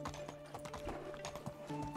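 A horse in a video game snorts and whinnies while its hooves clop in a busy, uneven rhythm, close and fairly loud, with layered game ambience around it.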